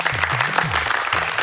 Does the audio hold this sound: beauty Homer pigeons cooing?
no